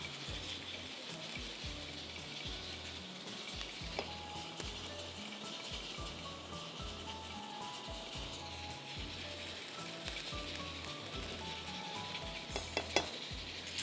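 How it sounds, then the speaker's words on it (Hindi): Chopped onions frying in oil in a pan as the base for bhuna mutton, a steady close sizzle with occasional stirring scrapes and clinks, no voices. "अब इसको हमें 5 मिनट भूनना है ताकि प्याज का कच्चापन ख़त्म हो जाए।"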